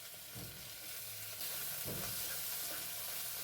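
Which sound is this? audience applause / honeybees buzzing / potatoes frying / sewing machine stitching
potatoes frying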